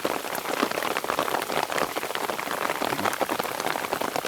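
A dense downpour of out-of-season rain drums steadily on nearby surfaces while runoff water rushes, a loud continuous wash of drops without any talking.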